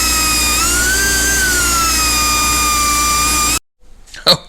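A power tool grinds loudly and steadily through a metal K-member for a Mustang coupe, cutting a notch in one continuous whine that stops abruptly, followed by brief faint handling noises.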